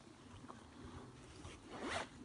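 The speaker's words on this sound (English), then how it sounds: "zip it up" A zipper runs closed on a fishing bank stick carry case, a quick rasping pull that builds to a louder burst near the end, with faint rustling before it.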